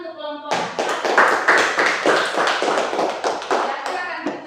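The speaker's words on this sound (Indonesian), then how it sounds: "Silakan berikan tepuk tangan untuk kelompok 4." Classroom applause for a student group, a quick burst of students clapping together after a brief voice, a loud, rhythmic run of claps close by that carries on for about four seconds.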